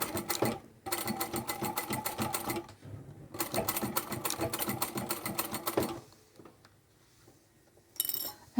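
A sewing machine runs in bursts of rapid, even stitching while backstitching at the end of the fabric on a multi-pocket card-holder wallet, with short pauses between runs and a quieter stretch before a final brief burst.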